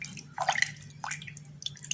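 Ground material being mixed into water for pigeons, with a few drips and small liquid splashes and squishes over a low steady hum, fairly quiet and close.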